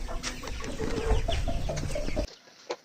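Desi chickens clucking on a small backyard poultry farm, several close, busy clucks and short calls for about two seconds before the sound cuts off, followed by one faint cluck.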